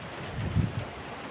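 Strong typhoon wind in Taiwan near a riverbank, a low, gusty roar that swells briefly in the middle of a short burst, with no voices.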